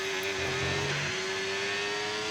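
Formula 1 race car in a video game leaving the pits on soft tyres during qualifying, a steady high engine whine with a brief pitch shift, continuous and fairly loud, no talk.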